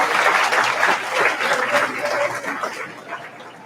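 A graduation ceremony audience applauds the nine yearbook staff members, dense clapping at moderate loudness that tapers off toward the end, with a hint of chuckling in the crowd.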